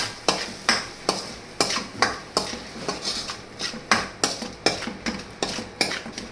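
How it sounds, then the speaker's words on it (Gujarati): A spoon scrapes and knocks rhythmically around a cooking pan while stirring a thickening gravy for spicy rava, about a dozen regular strokes over a soft sizzle, close with no talk. "પછી એને થોડી વાર હલાવવાનું"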